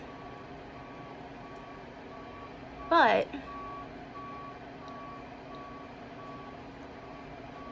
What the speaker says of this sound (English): Sounds like a truck backing up or something.